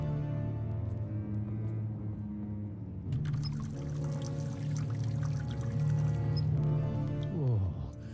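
Water pours steadily from a tap in The Raven video game, a continuous watery rush that swells toward the end over a low background hum.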